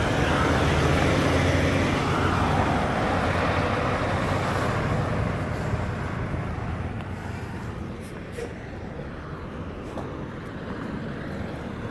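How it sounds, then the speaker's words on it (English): A Kenworth T660 dump truck passes on a road in Blue Lake, California, its broad engine rumble loud at first and slowly easing as it moves away, with no talk over it. "Here comes the T660 dump truck."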